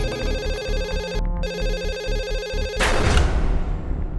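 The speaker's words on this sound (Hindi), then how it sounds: "उसने सबसे पहला फोन किया अपने पुराने दोस्त यूसुफ मोहसिन नलवाला को।" A telephone rings in repeated electronic bursts with a brief gap partway through, set under a dramatic music-like bed that swells toward the end; nobody speaks.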